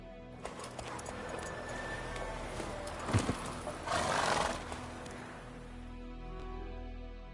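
Roach, a horse in a video game, whinnies and neighs loudly midway over a steady run of clip-clopping hooves, with the hoofbeats continuing more softly afterward.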